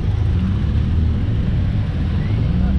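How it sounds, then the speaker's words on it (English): A Jaguar E-Type drives along Castle Combe Circuit during a Jaguar club event, its engine a steady, loud low rumble that holds for the whole moment without a clear approach or fade. "here comes another E-Type"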